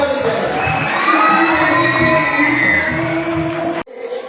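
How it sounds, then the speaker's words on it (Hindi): Crowd at a Quaid-e-Azam Day celebration in Attock, Pakistan, cheering, whooping and shouting in a dense, sustained roar that cuts off abruptly near the end, followed by a brief quieter tail. "आप तशरीफ लाए की भरपूर तालियां होनी चाहिए"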